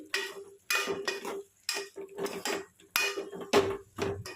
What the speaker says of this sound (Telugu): రెడ్ చిల్లీ పౌడరు వేసేసి అంతా ఒకసారి బాగా కలపాలండి.